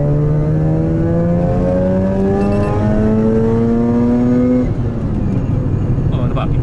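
A car engine revs up hard, rising smoothly in pitch through the gears for several seconds before easing off, loud and close, showing quick throttle pickup on a car fitted with a stock air filter.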